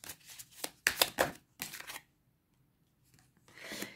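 Oracle cards shuffled for a pyramid spread: close, papery riffling in several quick bursts, then a pause, then one more softer shuffle.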